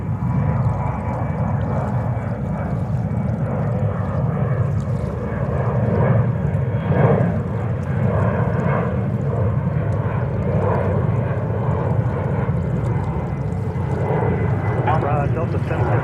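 An Embraer E175 regional airliner on approach and landing on runway 22 left at JFK, a steady broad aircraft roar holding for the whole stretch, with radio talk faintly mixed in.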